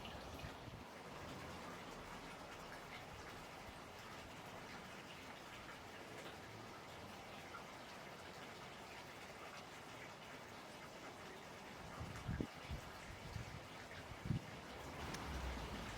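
Water from a small tunnel stream trickles steadily into a goldfish pond in a landscaped garden, a soft continuous wash close by with a couple of brief splashy bumps near the end.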